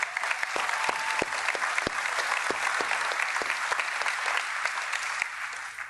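Conference audience at GitHub Universe 2025 in San Francisco clapping together for the open source community, a dense, steady burst of applause with a few sharp individual claps standing out, sustained for several seconds.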